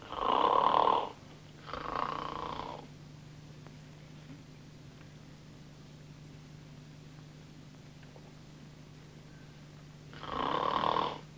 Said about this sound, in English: she doesn't do a bad sort of a snore